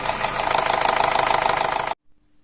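A Z16XER petrol car engine with low oil pressure runs with a rapid, loud, diesel-like clatter and metallic gear knock, a steady rhythmic tapping close up that stops abruptly just before the end.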